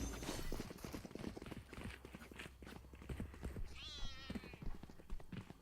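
A cat spray in the shooter game Valorant gives a short meow, heard as a brief rising call partway through, mixed under quick clattering clip-clop-like sounds and faint background voices during a collegiate esports match.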